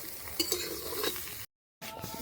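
Close, steady sizzle of cauliflower frying in a pan over a coal stove with light stirring scrapes, briefly cut to silence before the sizzling resumes.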